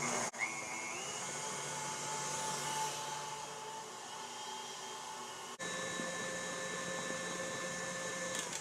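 An electric mixer beats vanilla buttercream frosting with a steady motor whir, briefly stopping, then running again at a constant pitch.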